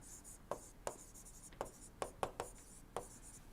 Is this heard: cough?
no